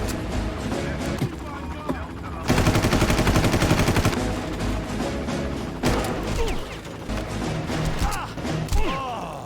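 Rapid bursts of automatic gunfire from the video game Far Cry 1 crackle in dense, loud volleys, with a heavier sustained barrage in the middle, while someone talks over the shooting.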